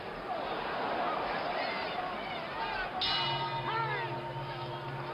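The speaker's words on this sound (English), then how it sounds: "The bell coming up." A boxing ring bell rings at the end of a round during the Joe Frazier vs Muhammad Ali fight, sounding partway through amid crowd noise and a commentator talking over it.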